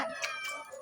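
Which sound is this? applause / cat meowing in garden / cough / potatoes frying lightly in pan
cat meowing in garden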